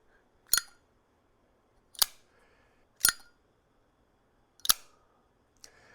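Five sharp metallic clicks of a Zippo 1941 Replica lighter lid snapping closed at irregular intervals, crisp and close, each a quick snap with a short ring, separated by near silence.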